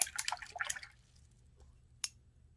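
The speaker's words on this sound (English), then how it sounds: "I had a lot of blue on my brush, so I'm cleaning it off in my dirty water jar" A paintbrush swished and tapped in a jar of dirty rinse water, a quick cluster of small splashy drips followed by a single faint tap, close and quiet.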